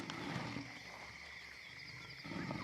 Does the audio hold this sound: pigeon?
no